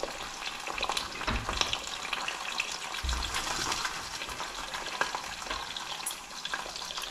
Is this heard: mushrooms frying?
yes